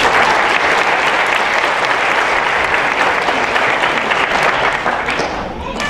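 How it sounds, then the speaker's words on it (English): Sustained applause from the audience at a college scholarship award ceremony, a loud, dense sheet of clapping that holds steady and then begins to thin near the end. "And the biggest clap will go to this individual, our ex-official college president, Dr. Richard Duran."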